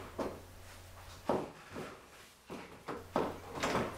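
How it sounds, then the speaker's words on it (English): Hot rod car door latch engaging, a series of sharp clicks and knocks spaced irregularly, fairly quiet and close with no talk. "Make sure that when the latch engages, you'll hear 2 clicks to make sure it's fully engaged."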